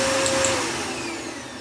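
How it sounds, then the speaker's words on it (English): A household Hoover vacuum cleaner runs in a steady, loud whine with a high motor tone, slowly easing slightly over a couple of seconds. "only short durations of seconds of the Hoover being on"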